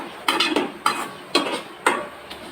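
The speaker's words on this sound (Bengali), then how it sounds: "তাই আমি একটু হালকা একটু যাতে পোড়া পোড়া ভাব আসে এজন্য নেড়ে চেড়ে একটু কষিয়ে নিচ্ছি" Tomato bharta being stirred and roasted in a pan: four distinct scraping strokes of a spoon against the pan, evenly spaced about half a second apart, close and fairly loud over a faint background sizzle.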